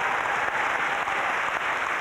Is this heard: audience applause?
yes